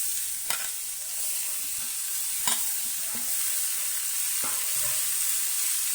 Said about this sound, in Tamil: அப்படியே வதக்கிக்கிட்டே இருக்கணும் கொஞ்ச நேரம்.